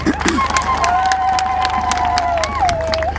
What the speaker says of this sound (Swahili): tuwapigie makofi mengi sana